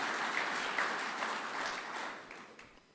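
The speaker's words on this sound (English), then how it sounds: "let's give an applause to our Witzenberg Local Council." Applause at an annual general members meeting for the Witzenberg Local Council and its councillors, a soft, steady wash of clapping from the room that fades out over about three seconds.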